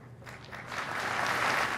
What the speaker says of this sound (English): A ripple of applause,